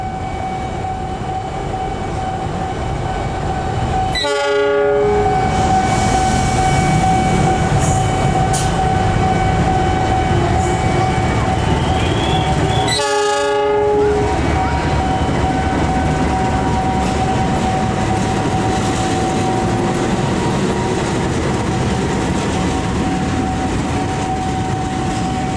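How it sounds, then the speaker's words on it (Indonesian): A CC206 diesel locomotive departs past a railway level crossing, its loud, sustained engine roar and rolling rumble close and steady, with a steady crossing bell tone throughout and two short horn or warning bursts. "sekarang gantian lokomotif Jomblo CC206 berangkat"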